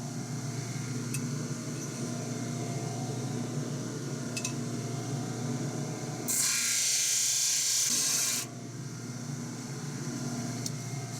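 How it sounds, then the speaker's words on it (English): Grinding off the back piece of an L96 rifle trigger: a steady high whine over a constant motor hum, rising into a louder, harsher bright grind for about two seconds before settling back to the running hum. "Now we're just going to grind off this back piece right here."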